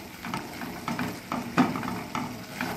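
Rajma masala with homemade spice mix and red chili powder sautés in a pan, a soft close sizzle punctuated by rhythmic stirring scrapes roughly every half second.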